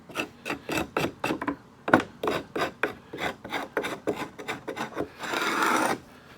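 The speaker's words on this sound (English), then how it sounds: "I just go the length of the frame, scraping the propolis off" A hive tool scrapes propolis off the wooden frame edges of a honey super in quick, rhythmic rasping strokes, about a dozen in a row, close and clear, followed by a longer, softer scrape.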